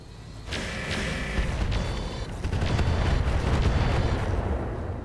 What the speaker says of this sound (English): They called in an airstrike.